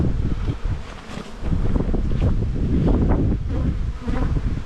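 Honey bees buzzing around a white hive during spring buildup, a dense continuous drone with wind noise over the microphone and no talking.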